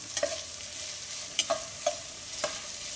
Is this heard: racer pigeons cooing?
no